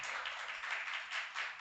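A church congregation applauds together in a steady, moderately close patter of clapping hands that pulses in soft waves throughout.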